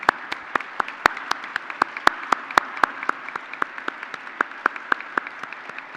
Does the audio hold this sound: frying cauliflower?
no